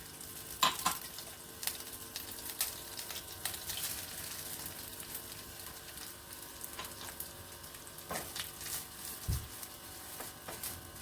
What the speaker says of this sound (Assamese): প্ৰায় 3 মিনিট মান মই এনেদৰে লৰাই থাকিম।